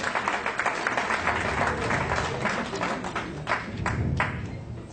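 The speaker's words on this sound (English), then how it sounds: "Please give them all a big round of applause." Guests at a college old students' association gathering give a sustained round of applause, dense clapping with a few sharper, louder claps standing out.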